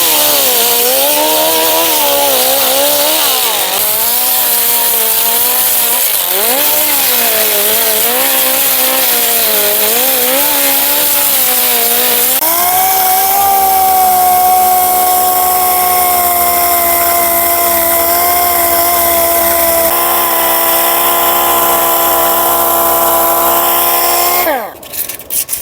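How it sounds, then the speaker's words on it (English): A disc grinder with a hard 40-grit sanding disc grinds down rust on a vintage Simplicity tractor seat, a loud, steady, close whine that shifts pitch as pressure changes, then winds down at the end. "starting out with the disc grinder on a hard disc that's 40 to get this down a little bit quicker"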